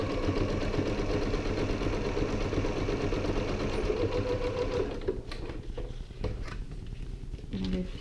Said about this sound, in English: Back stitching at the beginning and the end to reinforce.